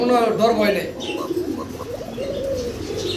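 An Arabian pigeon coos close by in low rolling phrases, while someone talks over the cooing throughout.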